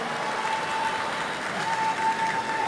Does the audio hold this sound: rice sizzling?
no